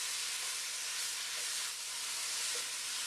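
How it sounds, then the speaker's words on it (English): Chicken sauteing with dry basil, giving a steady, faint broadband sizzle and hiss that holds constant throughout with no talk. "since we're sauteing, I'm going to add some dry basil to that right now"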